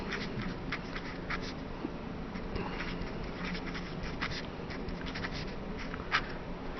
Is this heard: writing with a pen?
yes